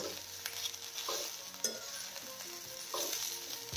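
Leafy chighal vegetable bhaji being stirred in a pan, with repeated scraping strokes of the spoon over a continuous close sizzle of frying, no voices.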